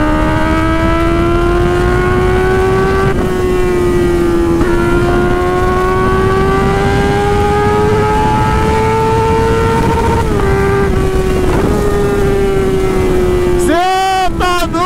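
A Honda Hornet motorcycle engine screams as it accelerates through the gears, a loud rising tone with brief dips at each shift, ending in a sharp rev near the end.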